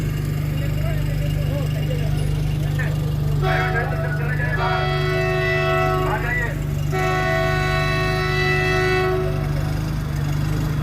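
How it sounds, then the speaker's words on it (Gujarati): A train rolls past a railway yard with a low steady rumble while its horn sounds in two long blasts; voices murmur in the background. "તો આપ જોઈ શકો છો આ ટ્રેન અત્યારે આવી રહી છે"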